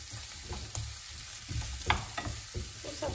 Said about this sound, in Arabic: تحر مزيان باش ما نخليش هذيك الثومة تحرق